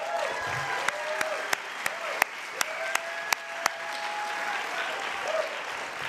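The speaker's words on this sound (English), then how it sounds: "get ready to clap" An audience at a county State of the County address applauds steadily, a broad wash of clapping with a few sharp, louder claps standing out and faint voices mixed through.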